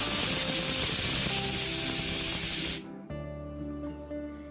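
Pressure cooker on low flame cooking chana dal with jackfruit lets off a loud, continuous steam hiss close by, which cuts off abruptly near the end and leaves a quieter hum.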